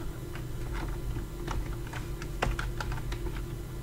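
Computer keyboard typed on while coding, a quick run of light clicking keystrokes in uneven rhythm, close and moderately loud over a steady low hum, with no talking.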